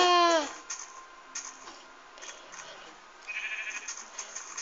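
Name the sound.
sheep bleating in Minecraft video game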